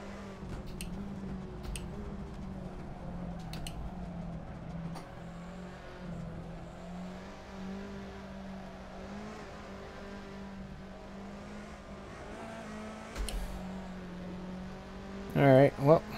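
Race car engine droning steadily at a track, its pitch holding and shifting slightly as it changes gear on the Calabogie circuit, with a brief sharper burst near the end.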